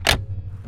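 A single solid thunk of a LuAZ car door shutting, close and short, followed by a low steady hum.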